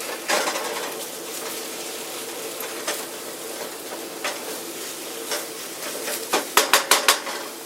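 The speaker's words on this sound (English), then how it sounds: "scramble your eggs till desired doneness" Eggs being scrambled in a frying pan at home for breakfast: a soft continuous sizzle with scattered utensil scrapes against the pan, then a quick run of sharper taps near the end, fairly quiet and close.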